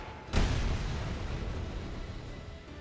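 A boom from an explosion in the fast-paced shooter game ULTRAKILL, a sharp low-heavy blast that hits early then rolls into a long, dense rumbling decay for a couple of seconds.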